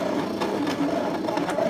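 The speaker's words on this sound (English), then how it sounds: "Lightly touch it. Sets the machine in motion." A Brother ScanNCut CM350 cutting machine running as it starts a cut, giving a brief, close, steady mechanical whir with faint rhythmic ticks and no voices.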